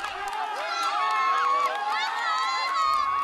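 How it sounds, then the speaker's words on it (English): A roadside crowd at a Tour of Rwanda stage cheers passing cyclists, with a steady wash of shouts, whoops and high children's voices rising and falling over about three seconds. "the crowds continued to cheer them all on."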